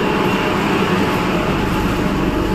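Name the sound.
metro train arriving at the station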